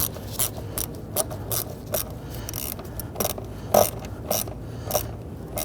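Ratchet wrench turning a bolt on a starter of a 2010-2019 Ford Taurus 3.5L V6, a series of quiet, irregular clicking ratchet strokes over low background noise.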